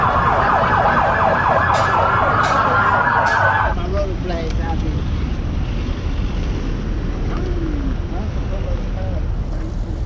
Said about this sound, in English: There's a helicopter and sirens.